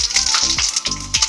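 Panch phoron spice seeds hitting hot oil in a pan, producing loud close crackling sizzles and sharp spattering pops that come in a few quick bursts.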